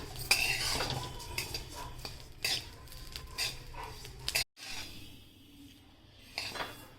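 Sesame seeds roasting in a pan while a spatula stirs them steadily, giving close scraping and light clinking of utensil on metal, with a brief break before quieter stirring resumes.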